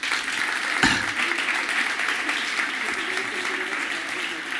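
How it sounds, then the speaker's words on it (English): Audience applause at a kids competition on an outdoor playground stage, steady dense clapping filling the whole stretch with a brief sharp bump near the start, people talking faintly underneath. "Big applause for Peter."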